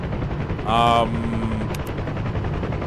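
A P-51D's machine guns fire a short burst in the DCS flight simulator, with a steady engine drone running underneath.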